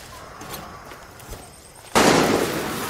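Far Cry 6 gunfire breaks out abruptly after a stretch of quiet background, turning into a loud, sustained crackle of shots.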